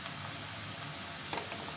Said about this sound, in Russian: а теперь сюда же мы добавляем мясо и будем жарить до коричневого цвета